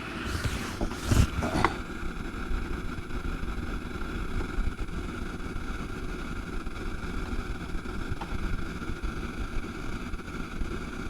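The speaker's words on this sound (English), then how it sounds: "That's the exhaust fan that's blowing right now." A continuous low mechanical hum of a workshop heater's exhaust fan blowing steadily, with a few brief clattering knocks near the start.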